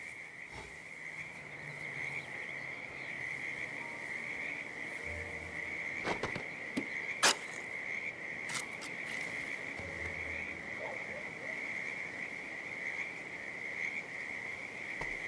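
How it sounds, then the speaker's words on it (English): Frogs near a creek in the game Hitman 3 call in a steady, faint nighttime chorus, with a constant shrill insect-like trill underneath and a few brief sharp clicks scattered through. "a species of frog that has been declared endangered"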